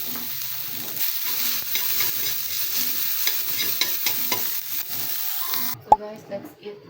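Last night's leftover dish reheating in a pan, a continuous frying sizzle with repeated scraping and stirring, ending in a clang and quiet clatter.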